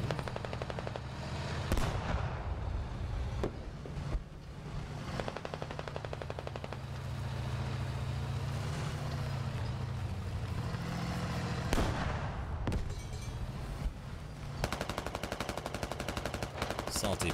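Sustained automatic gunfire from soldiers in the military shooter game Squad, with repeated bursts and sharp individual shots over a dense battlefield din, some close and loud, others more distant, with faint voices underneath.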